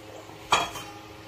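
A single metal spoon clinks and scrapes against a pot while coconut milk is stirred into semolina porridge (rava kanji), a brief clatter that fades quickly in a quiet kitchen.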